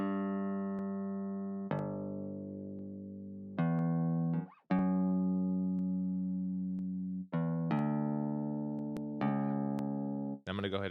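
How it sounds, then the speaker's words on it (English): A synth bass with overdrive and compression plays for beat-making, with its lows trimmed below about 200. It sounds as loud, sustained, harmonic notes that each decay slowly, in a sequence of about six separate tones with short gaps between them. "here's the first bass sound"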